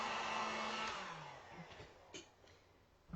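A blow dryer set on low blows a steady, close airy whoosh over acrylic paint on a wooden sign, strongest at first, then easing and sputtering a little toward the end, with no talking.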